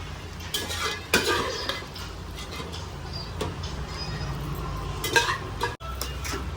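Soaked, boiled peanuts stirred into a seasoning in a pan on the stove, with steady scraping, clinks of utensil on metal and a soft sizzle running throughout, close and fairly loud.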